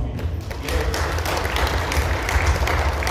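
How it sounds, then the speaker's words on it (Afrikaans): A church congregation claps along steadily during a worship service, dense handclaps with a low rumble of music or voices underneath, sustained throughout. "Gee sommer hande klap"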